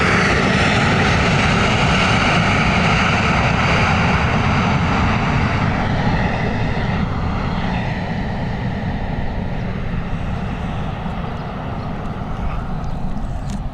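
An airliner arriving from Milan lands with tyre smoke, its loud engine roar close and steady, slowly easing and fading toward the end.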